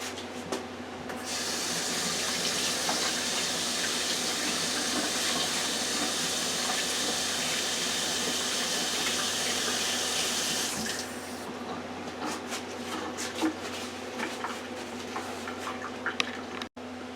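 Kitchen tap runs steadily into a sink while hands are washed, a loud continuous hissing gush lasting about ten seconds before it shuts off, followed by faint clatter and small knocks nearby.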